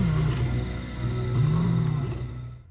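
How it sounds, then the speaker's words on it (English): A young lion calls out at night with a loud, drawn-out roaring cry that rises and falls over a few seconds, close and alone. "A young lion, lost in the dark of night, lets out a desperate cry for his brother."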